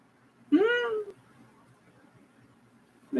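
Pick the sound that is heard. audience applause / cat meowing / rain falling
cat meowing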